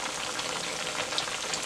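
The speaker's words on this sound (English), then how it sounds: "So let it fry and I will be back." Steady crackling sizzle of cornmeal fritter batter frying in hot oil in a non-stick pan, a continuous bright hiss with no talking.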